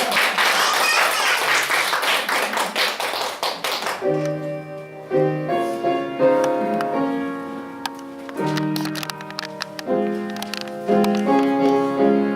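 A church congregation's applause fills roughly the first four seconds, dense and lively, before giving way to steady tonal music with sustained notes and no talk.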